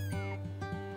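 A kitten meows during a veterinary check-up, its high, harmonic cry rising and bending over about a second, close and loud with a short second call.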